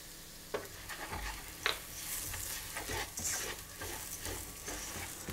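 Rice frying in oil with cinnamon and curry in a pan, a steady close sizzle with repeated scraping and stirring strokes of a utensil, a few sharper knocks against the pan, no talking.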